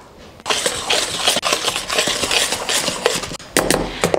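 Dry breakfast ingredients with a teaspoon of salt being mixed in a bowl, a continuous close scraping and clinking of utensil against the bowl with brief pauses, no voices.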